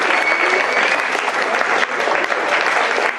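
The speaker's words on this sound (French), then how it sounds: "Sous vos applaudissements" Loud, sustained applause from the crowd at the final of a French eloquence contest as participants are called up, a thick continuous clatter of clapping with no gaps.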